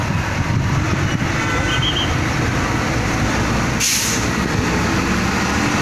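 A heavy truck labouring through congested traffic on a steep incline, continuous loud engine rumble with a brief hiss of air near the end.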